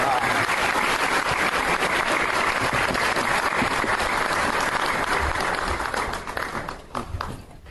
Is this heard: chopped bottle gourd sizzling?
no